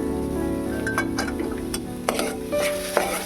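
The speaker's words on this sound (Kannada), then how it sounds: "ಕೊತ್ತಂಬರಿ ಸೊಪ್ಪು ಸೇರಿಸಿ ಬೀಟ್ರೂಟ್ ಪಲ್ಯನ ಮತ್ತೆ ಬಾಡಿಸ್ತಾ ಇದ್ದೀನಿ" Beetroot palya with chopped coriander leaves being stirred and sautéed in a pan, a steady close sizzle and frying hiss under several scraping stirs of a spoon against the pan.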